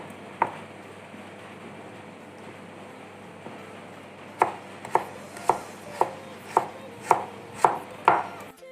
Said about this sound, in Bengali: পাতলা পাতলা করে লম্বা করে স্লাইস করে নেব পাতলা পাতলা স্লাইস করে নিচ্ছি